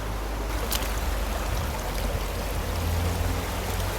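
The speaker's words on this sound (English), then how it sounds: "the water is getting very fast there" Rushing water roars steadily and close, a dense continuous wash with a deep rumble underneath and no voices.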